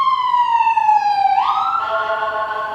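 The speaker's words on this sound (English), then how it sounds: "Our sirens are going by." An emergency vehicle siren wails loudly and close by, a steady tone gliding slowly downward and then shifting pitch as it passes, with no voices.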